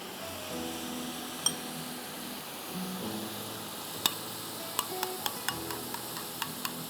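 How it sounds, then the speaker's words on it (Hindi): Masala fries in a pan for biryani under a soft, steady sizzle, while a spoon stirs and now and then clinks lightly against the pan's side, the taps coming faster near the end. "अब इसमें मैं इसको अच्छी तरह भून रही हूँ।"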